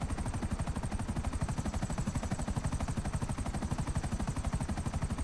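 Rapid automatic gunfire in the video game GTA Online, a continuous fast rattle of shots with a steady heavy rumble underneath, loud and sustained throughout.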